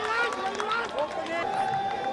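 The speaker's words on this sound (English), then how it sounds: "listen to the roar and the cheer for just a single" A crowd roars and cheers at a Nepal versus U.A.E. ACC Premier T20 Cup semi-final cricket match, a dense, sustained wash of shouting and whistling voices, with a commentator speaking over the noise.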